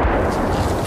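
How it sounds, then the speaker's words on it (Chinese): Missiles striking a bridge as Russian troops try to cross it in war footage, a short, loud, dense blast rumble with no quiet gaps. "一群俄军试图跨越一座桥，不料被乌军发现后，不到几秒就被数发飞弹全数歼灭"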